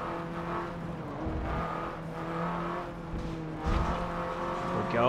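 Racing car engine in a sim racing game with a throaty open exhaust, played on a Logitech G920 wheel, holding steady droning tones with brief tire squeal and a louder surge near the end.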